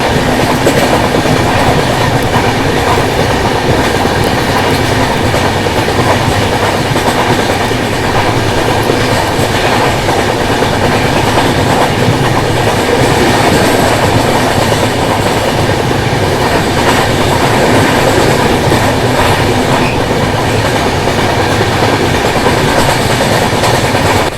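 A train runs on the adjacent line of an Indian railway route, a loud, steady rumble with rhythmic clickety-clack of wheels over rail joints that fills the whole stretch without letting up.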